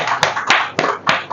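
A crowd at a devotional gathering claps in a steady rhythm, about five or six sharp, close, loud hand claps over a continuous bed of applause, with no voices.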